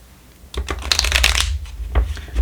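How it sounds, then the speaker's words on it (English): A deck of tarot cards is riffled and shuffled up close, a brief flurry of papery flutters and snaps, then a few soft taps. "So let's go ahead and shuffle the tarot."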